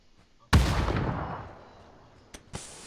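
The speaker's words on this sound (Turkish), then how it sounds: "Bomba atıyorum." A grenade in the PUBG video game on the snowy Vikendi map goes off with one sudden loud boom, its rumbling tail fading over a second or more, followed by two short sharp cracks.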